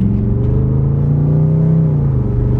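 A BMW 650i project car pulls away on a test drive, its engine rumbling loud and close with a steady rise in revs, no talking over it.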